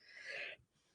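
A single short, quiet sniff, a sharp nasal intake of breath lasting about half a second, from someone who has been coughing and sniffling, followed by near silence.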